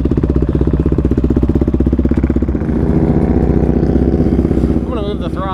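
ATV engine running on a rocky trail, with a steady, close, pulsing putter that rises into a stronger revving drone midway. A voice speaks briefly near the end.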